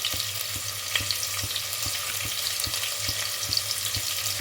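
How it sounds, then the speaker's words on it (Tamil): Sliced onions sautéing in a pan for chicken biryani, a steady close sizzle with a regular ticking scrape roughly twice a second as they are stirred, no voices. "இது நல்லா ப்ரௌன் கலராக வரங்காட்டிக்கும் நல்லா வதக்கி விடணும்."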